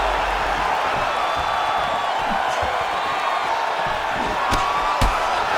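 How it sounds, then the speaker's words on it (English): A steady, loud arena crowd roars and cheers throughout a mixed martial arts bout in the video game EA Sports UFC 5, with a couple of sharp impact thuds near the end. "crowd just loving it"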